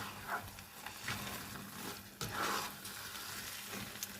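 Rice stirred with coconut milk in a pot over low heat, a soft continuous bubbling sizzle with a few scraping strokes of the spoon, close and fairly quiet.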